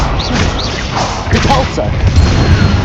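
Incendio fire spell cast in Hogwarts Legacy, heard as loud booming thuds and whooshing impacts in game combat, with a voice shouting over the effects.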